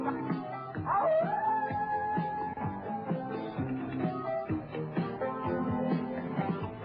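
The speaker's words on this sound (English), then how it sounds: "A lone wolf is howling his terrible sound." A lone wolf howls with a long rising, wavering tone, heard among busy dog-like yips, whimpers and barks that fill the whole stretch at steady loudness.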